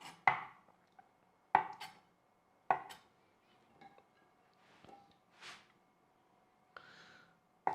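A knife chops tofu into little cubes on a cutting board, sharp distinct thuds every second or so with softer knocks in between, close and clear in a quiet room.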